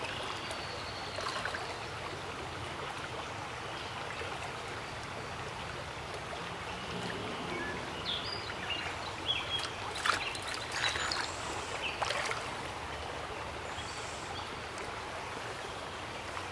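Fast-flowing stream water rushes steadily as a broadband wash, with birds chirping faintly in the background on a Memorial Day fishing outing where trout and minnows swim.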